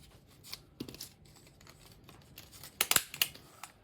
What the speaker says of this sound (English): And we'll snip that one off here.